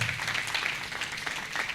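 A church congregation applauds in steady, dense clapping that fills the short stretch at an even level, with no voice over it.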